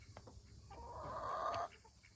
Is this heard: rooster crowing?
yes